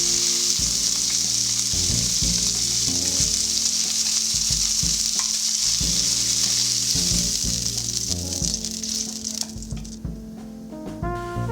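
Fish heads frying in oil in a karai give a loud, steady sizzle that runs throughout with music playing underneath, thinning out and growing patchier near the end.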